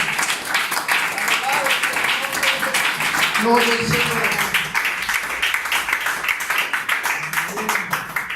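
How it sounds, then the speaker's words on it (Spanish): A church congregation applauds throughout a Sunday morning service, steady rippling clapping that fills the room while a voice rises briefly over it. "Pero un aplauso al Señor en esta mañana"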